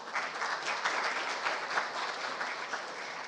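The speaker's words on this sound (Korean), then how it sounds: "다시 한번 큰 박수 부탁드립니다" Steady, dense applause from the audience at an international patent court conference opening ceremony, heard alone at moderate volume with no voices over it.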